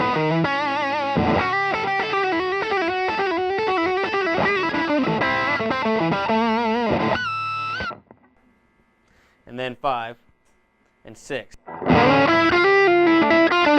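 A guitar plays through an Emerson Custom Pomeroy distortion pedal set to high gain, giving loud, thick, saturated chords and riffs for about eight seconds. Brief bursts follow with pauses, then the heavy playing returns. A voice speaks faintly during the gap.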